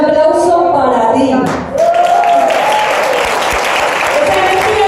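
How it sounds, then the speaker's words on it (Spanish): An audience at a business training event in Madrid bursts into applause, loud sustained clapping that follows a speaker's voice on a microphone, with cheers and voices mixed in. "Un aplauso para ti."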